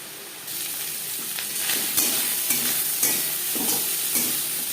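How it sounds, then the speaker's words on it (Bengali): Prawns fry lightly in a pan, a close, steady sizzle broken by rhythmic scraping stirs and bursts of hissing, with no speech. "মাছ হালকা করে ভাজা হয়ে গেছে"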